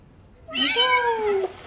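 A small adopted kitten lets out a single clear, close meow lasting about a second, drawn out with a slightly falling pitch, in a quiet indoor room.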